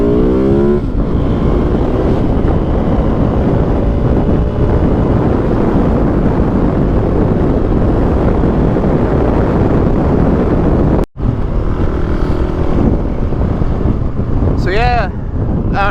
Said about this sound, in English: I thought I'd come out here and ride my dirt bike a little bit